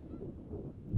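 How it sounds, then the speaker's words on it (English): Canada geese at a gathering of several hundred birds give a single short, faint honk near the end of a quiet moment. "I think I found Nirvana for Canada geese,"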